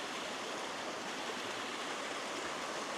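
Small waterfall pouring into a forest valley stream, a steady broadband rush of water that stays constant throughout with no voices.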